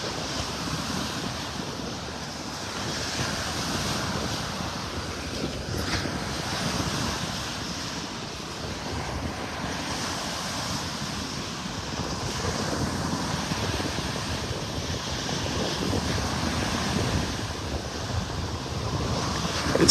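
Surf washes onto a beach in North Naples, Florida, a steady soft roar of breaking waves mixed with wind gusting across the microphone, with no talking.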